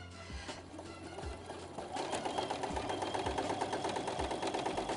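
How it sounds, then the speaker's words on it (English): A Brother NX-200 computerized sewing machine stitches fabric during free-motion work, its rapid needle chatter running steadily and growing louder partway through, close and alone with no talk. "So I'm actually drawing with the actual machine."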